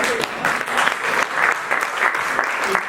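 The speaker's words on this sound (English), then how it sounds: "give a round of applause" Audience applause at a nature preservancy annual meeting, a dense, steady round of clapping for a staff member, fairly close and loud for the whole stretch.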